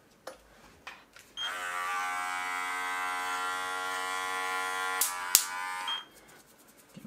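Electric hair clippers buzz steadily for several seconds during a first self-haircut, starting abruptly and cutting off with a click, close and loud and alone.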